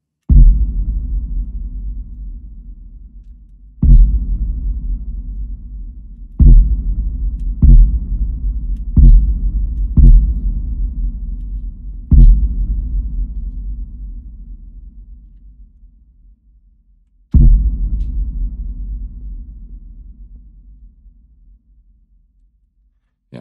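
Deep cinematic trailer boom built from a recorded sample, struck seven times at uneven intervals, each a loud low impact with a sharp attack and long rumbling decay, no voices.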